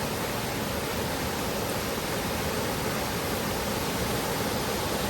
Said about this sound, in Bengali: এই বয়ে যাওয়া জলপ্রপাত বলি আর ঝর্ণা যাই বলি তার যে শব্দ